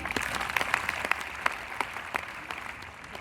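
An audience claps at a live orientation program held at a university in Hisar, a steady patter of many hands with scattered sharper claps, fairly even in loudness and carrying on throughout.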